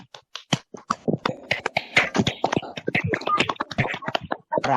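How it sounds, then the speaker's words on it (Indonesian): A classroom of students claps in response to their teacher, a quick scattered burst of individual hand claps, close and distinct, forming a brief ragged round of applause. "Tepuk tangan buat kita semua"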